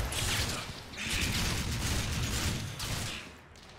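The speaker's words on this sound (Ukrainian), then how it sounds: "Як бачите, з запізненням працює артилерія противника." Enemy artillery fire in the war game Combat Mission SF 2 rumbles as continuous loud blasts and crackling explosions, in swelling waves that fade toward the end, with no talk.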